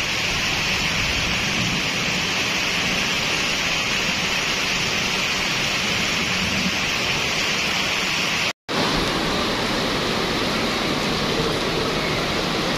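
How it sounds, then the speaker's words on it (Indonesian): Heavy rain pours steadily around an ALS 219 bus waiting to leave for Medan. The roar is dense and unbroken, with one brief cut near the end. "Tapi masih hujan ya."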